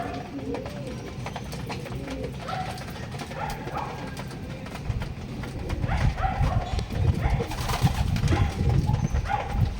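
Racing pigeons coo at a club loft in Lopez, Quezon, with soft repeated calls scattered over a busy background and some shuffling and louder noise later on.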